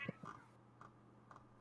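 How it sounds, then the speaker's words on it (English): A pet cat meows a few times in short, faint calls spaced apart, with a quiet pause between them. "He's taken on meowing."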